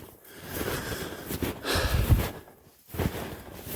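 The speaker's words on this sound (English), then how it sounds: "Sorry for the sniffles." A person sniffles and breathes heavily outdoors in cold, damp woods near Red Lake, Ontario, with a few close, wet snorts and breaths and no talking.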